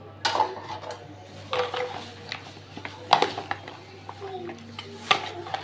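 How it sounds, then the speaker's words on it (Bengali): Meat frying with salt, turmeric and chili as a spoon stirs it, heard as intermittent metallic clanks and scrapes against the pot over a low steady hum, with faint voices in the background. "তো আমি এখন এগুলো সব কিছু ভেজে নিব একসাথে মাখিয়ে।"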